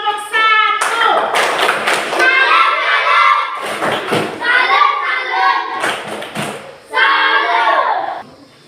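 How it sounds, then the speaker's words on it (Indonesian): A class performing a rhythmic 'tepuk salut' clapping routine, loud sharp claps in patterned bursts mixed with children's voices chanting along, close and energetic with short pauses between sections. "Tepuk salut untuk kelompok 1."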